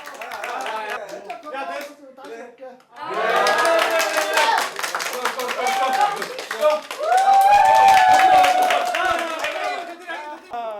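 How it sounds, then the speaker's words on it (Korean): Friends clap and cheer together at a farewell gathering for a man about to have surgery. The applause comes in bursts over several seconds, mixed with lively overlapping voices. "박수"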